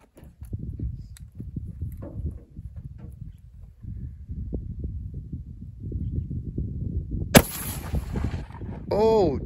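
A rifle chambered for .577 Snider fires a single sharp, loud shot late in the clip, standing out above a steady low outdoor rumble and handling noise.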